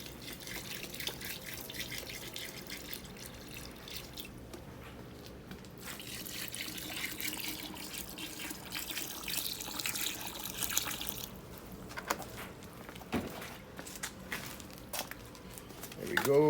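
Water pouring into buckets to mix bags of Quikrete concrete for a walkway, a steady splashing and trickling running for most of the stretch at close range, fairly loud with some shifts in flow.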